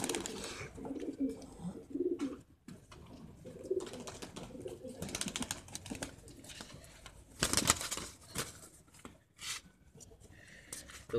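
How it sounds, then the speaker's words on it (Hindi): High flyer pigeons cooing at close range, with soft rustling and wing flaps scattered through the recording and a few bursts of louder movement. "ये कबूतर है जी"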